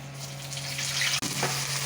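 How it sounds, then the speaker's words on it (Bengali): Cumin seeds and dried red chillies dropped into hot oil in a kadai, giving a steady close sizzle with a brief break partway through before the frying crackle resumes. "জিরে ফোড়নটা দিয়ে দেবো"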